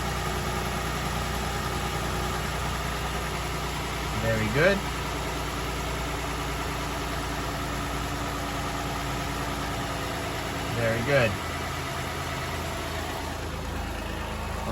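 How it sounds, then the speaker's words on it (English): A Toyota Highlander engine idling just after an oil change, a steady close rumble throughout, with someone speaking briefly twice over it. "Let the engine idle."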